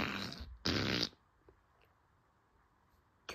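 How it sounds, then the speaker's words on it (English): A fart sounds twice in close succession, loud and broadband, the second burst longer, followed by quiet room tone with a few faint ticks and another brief burst at the very end. "Who farted? Who farted?"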